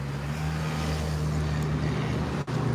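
Steady roar of city street traffic in Cleveland, a continuous low engine drone with a broad wash of road noise, fairly loud and unbroken, with a brief dip near the end.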